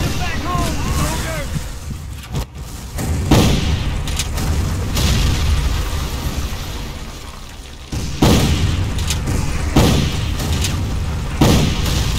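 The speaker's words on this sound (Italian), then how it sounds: "Ma chi è che mi spara?" Booming gunfire and artillery blasts in a Civil War battle video game: repeated loud bursts and deep thuds recurring every few seconds over a continuous battle din, with someone talking throughout.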